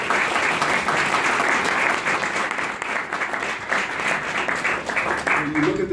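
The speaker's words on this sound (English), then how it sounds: "So let's give Cynthia Lopez a strong round of applause." A Bronx audience breaks into loud, sustained applause for Cynthia Lopez, dense continuous clapping filling the room, with a voice beginning to speak as it fades.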